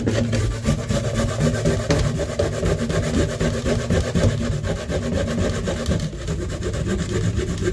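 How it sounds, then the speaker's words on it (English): Fresh ginger is grated for Jamaican coconut drops, a loud continuous rhythmic rasping scrape, close and steady throughout. "starting by grating my ginger"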